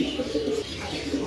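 A pair of big Maltese pigeons gives low, throaty cooing, a soft warbling rumble repeated in short phrases close by, with no talk over it.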